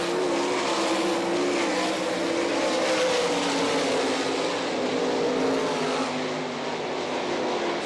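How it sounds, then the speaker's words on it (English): Sprint car engines roar around a dirt oval at an All Star Circuit of Champions race in Rossburg, Ohio, a loud, continuous high-pitched drone that holds steady and fades slightly at the end. "The new engine for Chad Kavanaugh, swinging and singing out of turn number 4"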